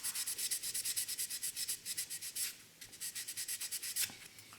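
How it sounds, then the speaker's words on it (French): A Revell 1/24 Ferrari California model car body is sanded by hand in quick, even back-and-forth strokes, a close, dry, rhythmic scratching with one brief pause. "on ponce jusqu'au temps qu'on n'ait plus rien"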